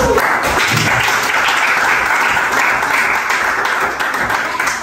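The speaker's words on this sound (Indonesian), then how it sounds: "Berikan tepuk tangan untuk kelompok." A classroom of students applauds a group of classmates during a school lesson, a dense, steady burst of clapping that stays loud and even for about five seconds and tapers slightly at the end.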